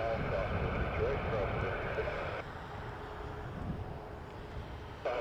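A WestJet airliner taxis for departure at Toronto Pearson Airport on a cold night, its steady engine roar and rumble filling the air, loud and continuous with a slight drop in level midway.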